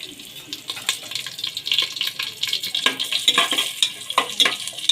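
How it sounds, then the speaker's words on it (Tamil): Cumin, pepper and cashews are stirred as they fry in ghee with curry leaves, a continuous close sizzle with frequent scraping and clinking of a spoon against the pan. "நான் போட்டு நல்லா பொன்னிறமாக வறுத்துக்கிட்டோம்."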